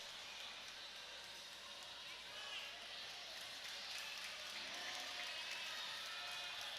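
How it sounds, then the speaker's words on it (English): A crowd cheers on a climber finishing her run at the UNAA World Series Finals, a steady bright wash of distant cheering and applause with a commentator talking over it. "Crowd cheering her on to finish"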